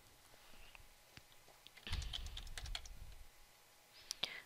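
Quiet computer keyboard typing, a few isolated taps and then a short run of rapid keystrokes, faint and close.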